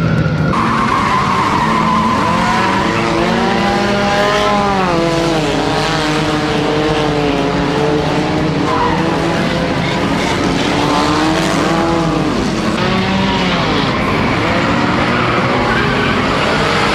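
Race cars roar, skid and squeal their tires without pause as they bang bumpers and wreck in a nighttime video game enduro race, loud and dense with shifting engine pitch throughout.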